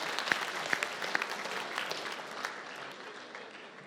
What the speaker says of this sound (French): Donc, un applaudissement pour SBM, s'il vous plaît.